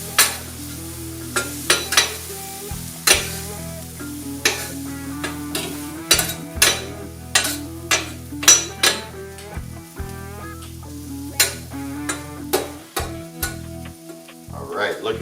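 Food mixed on a Vevor 22-inch 1600W electric flat top griddle, with a spatula clacking and scraping in quick irregular strokes over a low sizzle, close and loud with no voices.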